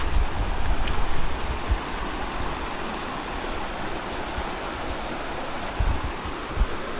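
Strong water current rushing over large rocks near a small waterfall, a continuous broadband roar with occasional low splashes, close and steady.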